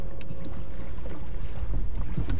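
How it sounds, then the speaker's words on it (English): Paddles rowing a boat on open water, a steady wash of water and wind noise with soft, indistinct strokes and no talking. "Now, we row. Take those paddles."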